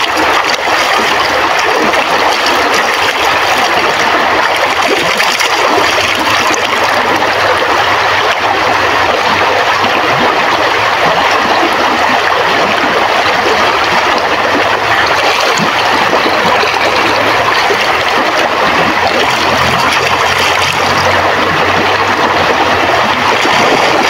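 A river flows steadily in a broad, continuous rush of water, with no break from start to finish, at the spot where someone is doing laundry.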